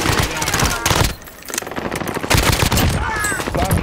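Rapid bursts of automatic gunfire crackle through a shooter video game, dense and loud with brief pauses, while players talk over it.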